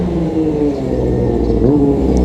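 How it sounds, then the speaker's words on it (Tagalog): A Honda CB400 motorcycle engine idles and revs steadily up close, a loud continuous rumble with a rising pitch swell partway through. "Tinesting yung motor natin."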